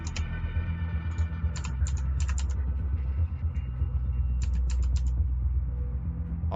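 Computer keyboard arrow keys on a Roll20 tabletop game are tapped in short clicky clusters, scattered irregularly over a steady low background hum, with no talking.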